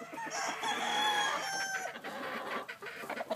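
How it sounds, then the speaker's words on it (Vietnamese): A Black Jap Asil Peru gamefowl rooster crows close by, one drawn-out cock-a-doodle-doo with clucking from other fowl around it on a farm. "Đây là gà trống cháp."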